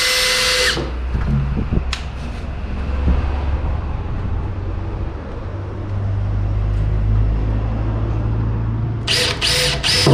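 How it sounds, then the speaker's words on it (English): A power drill whirs steadily at low pitch for several seconds, drilling a pilot hole from the top down on a drift car part, with short sharp bursts of higher noise at the start and end. "So I'm going to drill a pilot hole, hold it down, drill from the top down"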